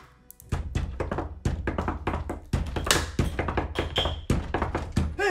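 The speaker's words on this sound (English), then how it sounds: "How Arabs knock." Rapid, frantic, exaggerated knocking on a door, a long rush of many loud close thuds and taps in an irregular fast barrage, with no speech.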